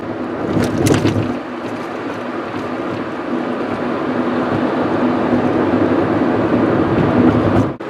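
A Honda Insight cruising on Interstate 285 in Atlanta as other vehicles pass, heard as a loud, constant road and wind rumble from inside the car that swells gradually, with a brief whoosh near the start.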